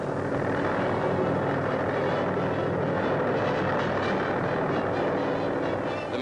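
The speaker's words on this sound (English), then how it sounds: "Hovering gently, the helicopter shows how it served in war and can serve in peace." A Sikorsky R-5 helicopter hovers and unloads a passenger, its rotor and engine making a loud, steady, broadband roar that fills the whole stretch without a break and with no voices.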